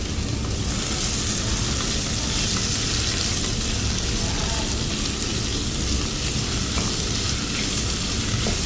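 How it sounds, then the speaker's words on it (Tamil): Beetroot and potato frying on a high flame for poriyal, a dense, even sizzle with soft stirring that continues steadily throughout, no talking. "அதே ஹை ஃப்ளேமில் நம்ம ஒரு 2 minutes வறுத்துக்கலாம்"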